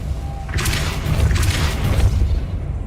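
A Depulso spell cast in Hogwarts Legacy, giving a deep, booming thump with a brief whooshing burst over a low rumbling game background.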